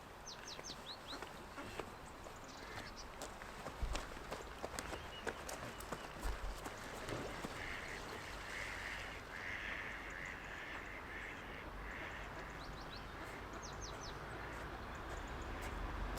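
Faint duck quacks come through a busy outdoor background at Bohinj, Slovenia, with scattered clicks and shuffling, some distance away.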